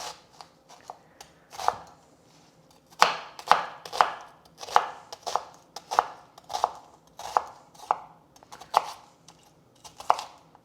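Red onion being chopped with a knife on a cutting board for a vegan black bean burrito, a steady run of crisp, close blade taps in quick bursts with short pauses between.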